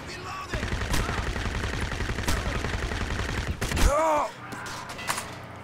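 Gunfire rattles in the Crysis shooter game, a dense run of rapid shots lasting a few seconds and ending in a final burst with a metallic whine. No one speaks over it.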